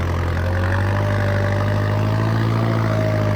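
A big tractor engine idles nearby with a loud, unbroken low rumble and steady hum that holds at one level throughout, with no talk over it.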